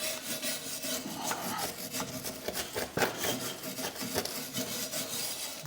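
A metal-bristled brush scrubs a Vauxhall Corsa C subframe in steady, rough rasping strokes, close and continuous, with occasional sharper scrapes.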